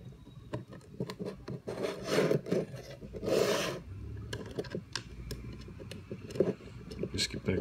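Screws are tightened with a wrench on the base of a robotic arm during assembly, giving close scraping, ratcheting and clicking bursts in an irregular rhythm, with quieter gaps between turns.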